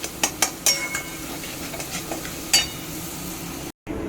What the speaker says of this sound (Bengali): আর এই যে এখানে ভাজি হচ্ছে গিয়ে তোমার চিতল মাছ।